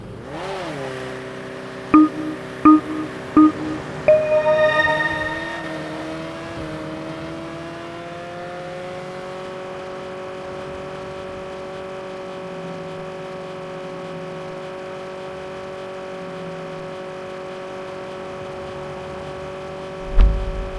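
A stock Attrazione car in Saints Row runs a quarter mile on the streets of Santo Ileso, its engine droning at a steady pitch after a few sharp revving bursts at the start, with no talk.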